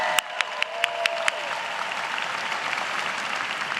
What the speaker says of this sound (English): let's give a big round of applause to our incredible faculty here today